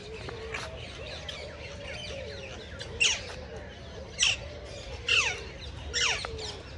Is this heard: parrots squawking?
yes